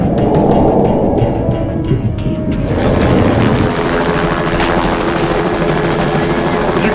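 Helicopters in a 2009 Syfy giant-piranha film, a loud, constant rotor and engine roar filling the scene, with rapid chopping pulses at first, then a broad wash under brief spoken dialogue.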